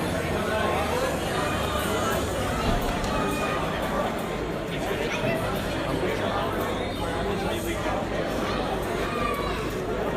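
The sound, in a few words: crowd chatter at rally scrutineering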